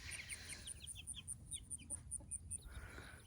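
Chickens, a flock of sixteen young birds raised from mail-order chicks, clucking in an overgrown outdoor pen, with rapid repeated calls and chirps over steady low background noise and no talking.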